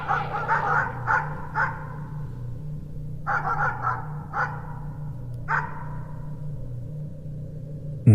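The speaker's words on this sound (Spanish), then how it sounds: "Unos ladridos acercándose por el camino" Dogs bark in short clustered bursts, several rounds of barking separated by brief pauses, fairly close, over a low steady hum.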